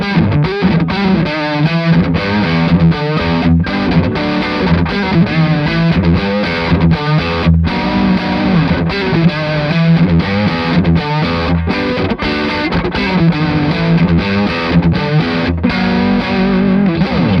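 An electric guitar with a single coil pickup plays a continuous, loud, distorted riff with effects, strummed and picked steadily throughout with no pauses.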